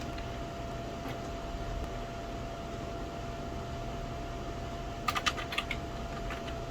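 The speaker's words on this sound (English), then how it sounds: "And we do that by typing" Someone types on a computer keyboard while installing an Amithlon system, producing a brief cluster of sharp key clicks late in the clip over a steady background hum.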